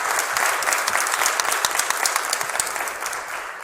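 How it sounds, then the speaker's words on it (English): A crowd at an NAACP Cleveland branch swearing-in ceremony in a church claps loudly and steadily, the dense applause easing slightly toward the end. "That deserves some applause."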